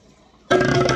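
Running tap water abruptly gushes over habaneros and onion in a colander, a loud, steady hiss and splash following near silence.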